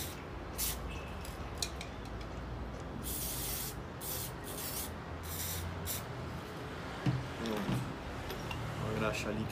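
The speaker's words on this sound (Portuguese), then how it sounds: "Uma graxa líquida aqui no parafuso para proteger." Liquid grease hisses from an aerosol can onto a bolt of a jeep winch in bursts of short sprays, with metallic clicks and rubbing between them and someone speaking Portuguese over it.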